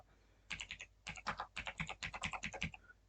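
Someone typing an Aadhaar number on a computer keyboard, with a quick run of crisp key clicks in uneven clusters after a short pause, close and clear in a quiet room.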